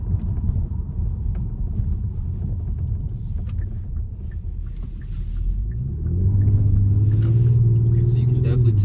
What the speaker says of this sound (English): just got that classic V6 sort of snarl to it